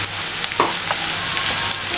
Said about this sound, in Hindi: टमाटोज भी डाल देंगे, हल्का सा बस सौते करना है,